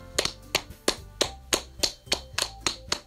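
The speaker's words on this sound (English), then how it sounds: "I'm the first to start applauding." Applause in the video game Doki Doki Literature Club: about ten sharp, evenly spaced claps in a steady rhythm, clear and close, with no talk.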